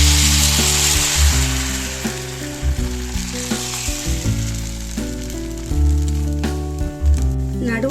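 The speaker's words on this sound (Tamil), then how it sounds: "இப்போ இதில் ஒரு கரண்டி மாவு எடுத்து ஊற்றிக்கலாம். நல்லா இப்படி சுற்றி விட்டுக்கோங்க." Ragi appam batter sizzles loudly in a hot pan, a steady frying hiss interrupted by several scraping and stirring bumps throughout.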